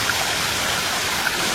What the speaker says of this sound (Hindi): सामने देखिए आप कितना खूबसूरत झरना है